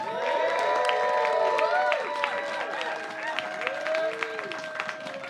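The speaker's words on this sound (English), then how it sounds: "Please give a big round of applause for Rick Loverd." Audience applause and cheering greet a speaker at a comedy and climate science event, with a steady wash of claps under overlapping voices, whoops and excited chatter.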